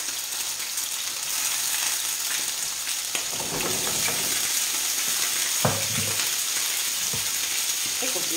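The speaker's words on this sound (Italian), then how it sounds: "Lì il nostro aglio è già soffritto, andiamo a mettere i nostri filetti di vitello" Veal fillets sizzle and fry steadily in a pan with browned garlic, a continuous crackling hiss with a few louder spits and stirring knocks partway through.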